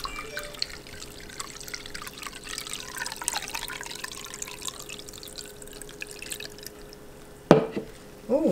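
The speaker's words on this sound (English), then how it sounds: "Let's put it through a cheesecloth, through the strainer, and see if we get any remnants." Homemade coconut milk strained through cheesecloth and a strainer, a faint soft trickle and dribble of liquid throughout, with a sharper splash or clatter near the end.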